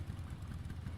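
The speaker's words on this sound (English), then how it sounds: "Cut the engine. They'll hear us." A motorcycle engine idles in the Metal Gear Solid Delta video game, a steady low rumble with a slight rhythmic pulse that holds at an even level for the full second, with no voices over it.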